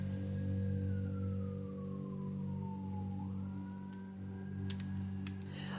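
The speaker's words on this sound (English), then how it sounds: "You hear these sirens?" A siren from an emergency vehicle wails outdoors at a distance, its pitch sliding slowly down and then rising again over a steady low hum, with a few faint clicks near the end.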